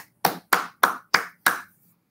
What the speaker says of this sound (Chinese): 现在是不是我们用热烈掌声啊，我们现在就欢迎我们洪教授来给我们演讲